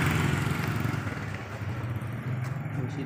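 A Yamaha Vega ZR / Jupiter Z motorcycle engine runs right after an ignition repair, idling close and loud with a steady, slightly uneven mid-range putter throughout.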